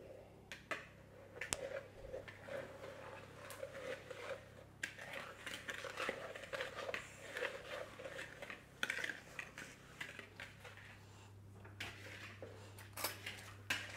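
Egg yolks, sugar and almond essence mixed in a bowl for a galette des rois filling, with faint irregular whisk or spoon clinks and scraping against the bowl, quiet and close, continuing in short bursts throughout.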